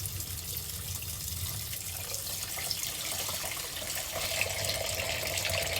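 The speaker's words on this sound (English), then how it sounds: "I'll put the water down in there." Water pours steadily into a cat water fountain during cleaning, a soft continuous trickle and splash heard close by with no talking.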